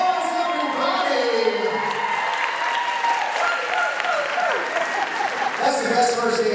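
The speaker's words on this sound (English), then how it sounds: "Big round of applause, everybody!" Wedding guests clap and cheer after a couple's first dance at a same-sex wedding held during Covid-19, a loud, dense roar of applause with whoops and voices mixed throughout.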